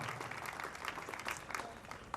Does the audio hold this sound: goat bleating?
no